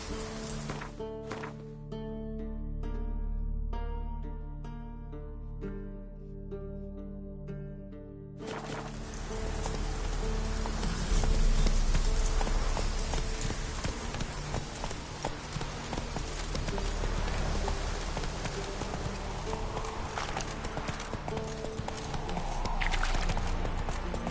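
Hooves of Roach, a horse in The Witcher 3, clip-clop in a steady galloping rhythm over continuous music and ambient game sound, loud and close throughout.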